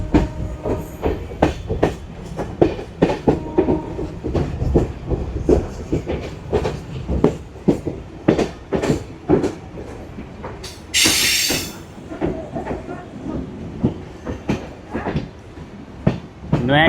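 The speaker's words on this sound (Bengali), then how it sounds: "আমাদের ট্রেন ফাইনালি ঢুকছে নৈহাটি জংশন রেলওয়ে স্টেশনে" Local train entering Naihati Junction, wheels clacking in a quick regular rhythm over rail joints with a steady rumble underneath and a short high squeal midway, loud and close.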